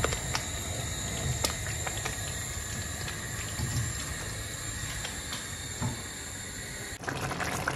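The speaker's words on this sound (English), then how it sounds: "Now go ahead and add my beef stock and stir everything in." Beef stock is poured into a beetroot stew and stirred, giving a faint, steady liquid wash and sloshing with a few soft clinks and a brief louder splash near the end, with no talking.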